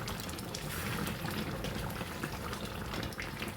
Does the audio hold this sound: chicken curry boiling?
yes